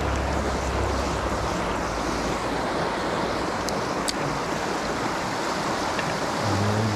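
Swift river current rushing steadily over rocks and logs at a fishing hole, a dense broadband wash that stays loud and unbroken throughout, with no talking.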